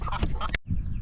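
Backyard chickens scratching around near a running water source, giving a few quick close clucks and squawks with a brief gap before more clucking.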